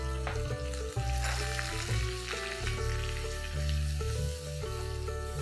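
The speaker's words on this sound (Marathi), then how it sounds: "1 कांदा मीडियम साईजचा मी वाटून घेतलेला आहे. तो जरा गुलाबी होईपर्यंत परतूया." Ground medium-sized onion sautés in hot oil after cumin seeds crackle, making a continuous sizzle under loud background music, with no talk.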